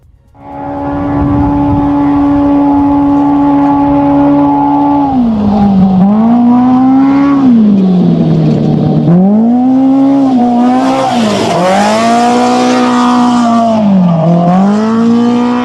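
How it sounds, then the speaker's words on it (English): Off-road race cars take off at the start of the NORRA 500, one loud, close engine idling, then revving hard through several rising and falling gear sweeps. "You hear more and more cars taking off down the backside of the mountain now."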